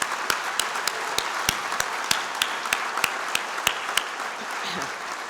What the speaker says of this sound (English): So, okay, now we can applaud. Those are the energy goal achievers.